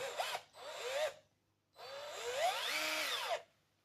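A Black and Decker EGBL 18 cordless drill whirs in short bursts, revving up and down in pitch, two quick runs then a longer sustained whine before stopping.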